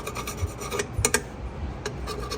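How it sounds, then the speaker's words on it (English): A tool scraping old grease off drum brake parts on a 2004 Kia Sedona, a series of short rasping scrapes and rubs heard close up and fairly quiet. "Use something to scrape the old grease off"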